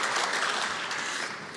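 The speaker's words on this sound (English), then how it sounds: "so a big round of applause for your." Steady, dense applause from a conference audience, sustained at an even level for the whole stretch with no voices breaking through.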